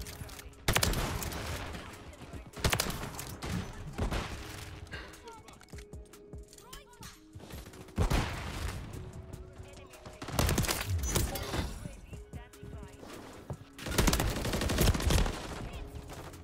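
Lockwood 680 shotgun blasts in MW3, several loud sharp shots spaced a few seconds apart amid game footsteps and effects, with a player talking throughout.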